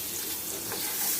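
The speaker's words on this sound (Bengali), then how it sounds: "এবার ওই তেলেই বেগুন আর কুমড়ো ছেড়ে দিলাম।" Eggplant and pumpkin pieces, salted, fry in hot oil in a Bengali home kitchen, giving a steady close sizzle with a faint crackle, no voices present.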